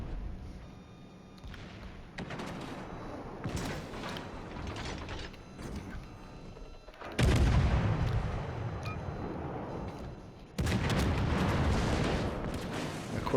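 Ship main-gun salvos in the naval game World of Warships, with heavy booming blasts followed by long rumbling roars, including two loud, sustained eruptions of sound, set against steady mechanical background noise.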